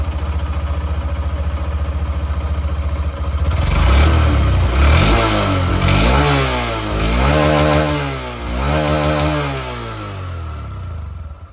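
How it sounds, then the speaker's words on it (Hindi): A 2025 Honda Shine 125 OBD 2B motorcycle idles with a steady, close exhaust putter, then is revved several times in rising and falling surges before settling back. "चलिए यहाँ पर इसकी जो एग्जॉस्ट साउंड है वो भी मैं आप लोगों को यहाँ पर बिल्कुल सुना दूँ"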